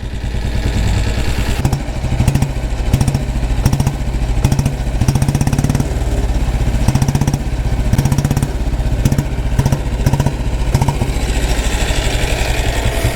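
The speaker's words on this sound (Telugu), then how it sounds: "ఇది ఐడ్లింగ్ సౌండ్" A Taurus 325cc diesel Bullet motorcycle idles close by, its single-cylinder thump ticking in a fast, steady, loud rhythm with clattery mechanical knock and no voices.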